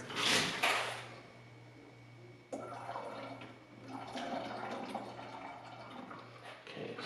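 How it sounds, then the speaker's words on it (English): Excess water is dumped from a soaked sponge in a guitar repair workshop, a loud splashing pour in the first second, followed by quieter handling noises and dripping. "We're going to dump off any excess water."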